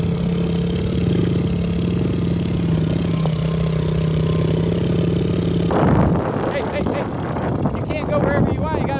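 A pit bike engine runs steadily at a low, even idle, then gives way to louder, rougher revving and rumble in the final few seconds as people talk nearby.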